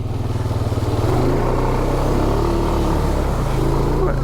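A Honda Foreman ATV engine chugs and revs loudly up close in low gear as it drives into mud, a steady rough drone with faint splashing and no talk.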